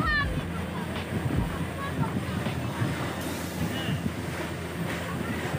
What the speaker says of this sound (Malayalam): നമ്മുടെ ബോട്ട് പയ്യെ പയ്യെ അങ്ങനെ നീങ്ങിക്കൊണ്ടിരിക്കുന്നു.